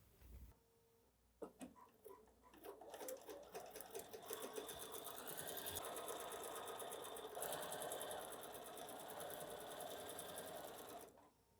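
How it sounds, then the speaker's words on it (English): A sewing machine stitches a quarter-inch seam on a quilt block, running in a fast, continuous mechanical whir with rapid ticking for most of the stretch, after a few brief clicks and handling noises at the start. "I'm going to sew 1/4 inch on the other side"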